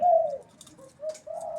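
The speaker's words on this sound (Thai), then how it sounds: "ตัวนี้เป็นนกกุกเดียวนะครับ ไม่ใช่นกสองกุกนะครับ ขันเสียงกลางกลางเพาะๆเลยนะครับ" A captive single-coo dove with a medium-pitched voice gives close, clear coos: a long opening note, a short middle note and a longer closing note, with faint rustles between them and no talking.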